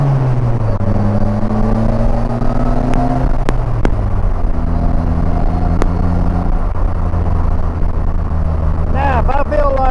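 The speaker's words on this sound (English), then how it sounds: "Now I'm just normal shifting." A Polaris Slingshot engine hums steadily while driving, its pitch dropping and rising again as gears are shifted, with constant road and wind noise and a few clicks.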